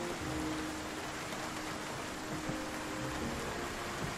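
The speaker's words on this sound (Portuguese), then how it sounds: "Tá chovendo pra caramba, tá maluco." Heavy rain pours down in a steady, dense hiss with no letup, a broad constant wash of drops hitting surfaces nearby and no voices.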